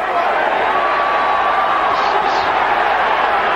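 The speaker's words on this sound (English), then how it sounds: "And listen to the crowd now." A boxing crowd at the Leonard Dorin vs Paul Spadafora fight keeps up a steady, dense roar and murmur, with a commentator talking over it throughout.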